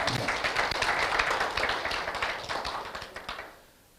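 An audience at a Lions leadership academy lecture claps together to approve a motion: a dense, lively burst of many hands that holds steady for about three seconds, then thins and stops.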